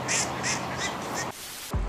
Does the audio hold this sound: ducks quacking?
yes